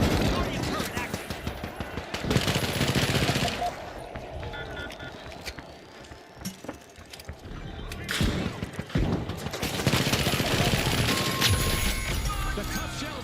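Guardian turret in the shooter game The Finals firing rapid automatic bursts amid a dense, loud mix of game effects and clatter, with talk over the action.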